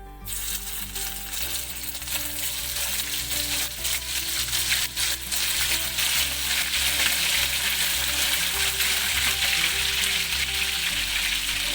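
Garlic paste frying in hot oil, a continuous loud sizzle and crackle with occasional stirring clinks, steady throughout with no voices.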